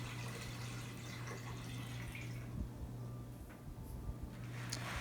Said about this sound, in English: Just pour it right into the Instantpot.